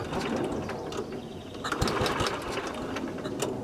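A small gasoline engine on a Lickity log splitter runs as the throttle is opened, giving a fast, buzzy, rattling chatter at close range with a few sharper knocks partway through.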